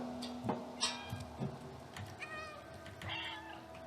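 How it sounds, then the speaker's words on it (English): A cat meows several times in the video game Stray, short mewing calls scattered across a busy background of game sounds and music. "When you meow, it sort of gets them."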